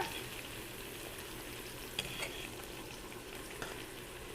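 Steak frying in moving oil in a pan over low-medium heat, a steady close hiss and sizzle with faint crackles and occasional small pops.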